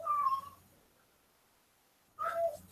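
An outdoor cat gives two clear meows, one at the start and another after a quiet pause of more than a second, close and fairly loud against a calm background.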